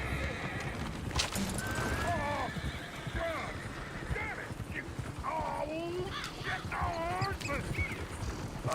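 Horses in Red Dead Redemption 2 whinny repeatedly over a steady clatter of hooves, with rising and falling neighs scattered throughout amid a busy, noisy background.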